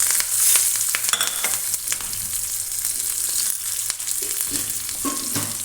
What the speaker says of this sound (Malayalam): ജീരകവും പച്ചമുളകും ഇട്ട് കൊടുക്കുക.